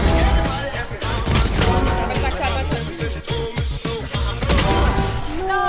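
Rapid bursts of gunfire from the video game Valorant crackle in quick succession, loud and close, with players talking excitedly over the shots.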